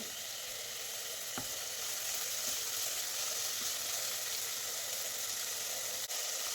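Onions and two green chillies sauté with salt in a hot pan, a continuous close sizzle with a faint scrape or two as they are stirred.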